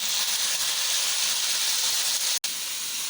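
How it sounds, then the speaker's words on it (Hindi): Half a kilo of chopped tomatoes sizzling in hot oil in a karahi, a dense, steady hiss close by that runs continuously with only a momentary break. "और अब हम टमाटरों को फ्राई कर लेंगे"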